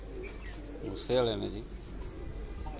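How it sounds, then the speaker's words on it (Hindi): Heera Laal pigeon giving a single short throaty coo, close by, over a low background hum, with someone speaking briefly around it. "हीरा लाल कबूतर थानू जी"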